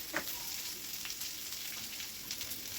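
Onions fry in a pan with salt and turmeric for a tiffin-center onion puri curry, giving a quiet, steady sizzle with occasional faint crackles and no voices.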